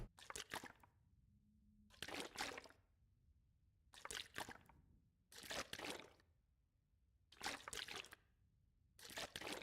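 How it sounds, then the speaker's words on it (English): Water sloshing in regular, rhythmic bursts about every two seconds with short quiet gaps between, faint and close, with no talk over it. "Love the sloshing sounds."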